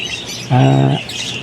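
A pet bird, with an aviary breeder noting a pied mutation, gives one loud, clear harmonic call lasting about half a second, standing out sharply over a faint hissy background.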